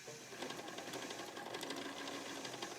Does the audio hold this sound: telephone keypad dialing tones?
no